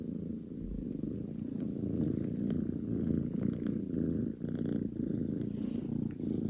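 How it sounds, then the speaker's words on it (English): A kitten purrs steadily and close up, a soft low rumbling rhythm of breaths going on without pause. "I know you guys enjoyed the double purring the other day."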